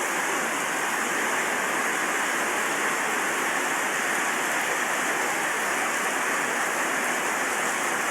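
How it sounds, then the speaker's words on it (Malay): Heavy rain pours down steadily, a dense, continuous roar of water with no letup and no voices. "Hujan lebat."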